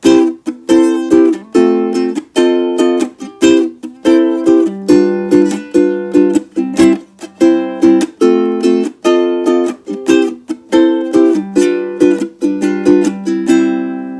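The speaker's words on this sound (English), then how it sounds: "if I use a little bit of muting and some percussive attack on my right hand, while I'm muting on the left hand" Rhythmic ukulele strumming with left-hand muting and right-hand percussive attack, giving clipped chords punctuated by sharp muted chucks in a steady, funky groove, close and alone.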